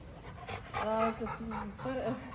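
An explosives-detection service dog pants in quick, breathy bursts close by, with voices and some whimpery tones mixed in over the short stretch.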